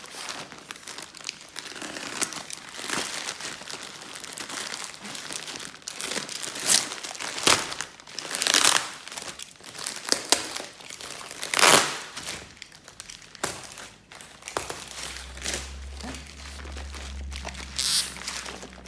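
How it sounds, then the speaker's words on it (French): Crinkling and tearing of a parcel being opened, holding diamond painting supplies, with irregular rustles and crackles of wrapping throughout, close and moderately loud, and a low hum entering near the end. "on va ouvrir le petit colis ensemble"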